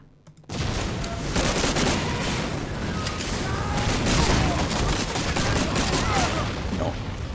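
Dense, continuous gunfire from shotgun and Thompson submachine gun in the WWII shooter Medal of Honor: Allied Assault, loud and close, beginning abruptly after a brief quiet and sustaining as a rapid crackling barrage with overlapping battle noise.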